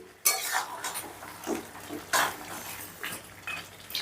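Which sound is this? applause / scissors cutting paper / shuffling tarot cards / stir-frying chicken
stir-frying chicken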